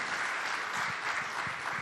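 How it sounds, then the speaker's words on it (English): An audience at a boxing press conference in Saudi Arabia applauds in an even, distant-sounding wash of clapping that runs throughout without a break. "Round of applause, please."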